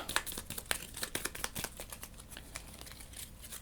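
Marvel Legendary cards being shuffled by hand at a tabletop: close, quiet crisp riffling and flicking of card stock in quick irregular bursts, with no talking.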